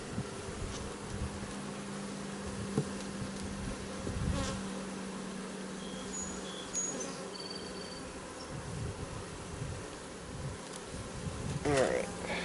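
Honeybees buzz steadily and close throughout a hive inspection, a continuous droning hum with a few louder passes, no talking.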